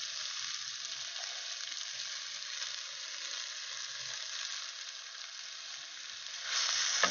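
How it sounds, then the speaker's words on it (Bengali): Fried okra sizzles in hot oil, a steady hiss that stays fairly quiet. A brief louder burst comes near the end, with no voices. "এবার ভেন্ডিগুলো দিয়ে দেবো, ভাজা ভেন্ডিগুলো।"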